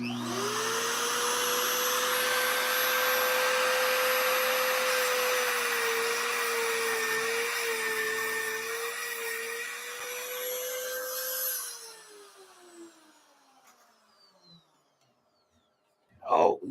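A CK Turbo Sharp sharpening machine runs with a loud, steady high-pitched whine and motor drone that wobbles slightly in pitch, then spins down with a falling tone and fades to quiet, followed by a brief knock.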